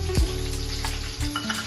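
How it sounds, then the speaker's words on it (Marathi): Green chillies drop into hot oil with a soft thump, then a steady close-up sizzle and crackle of frying continues alone throughout. "दोन पळी तेल ओतलेलं आहे, त्याच्यामध्ये प्रथम आपण मिरची टाकूया"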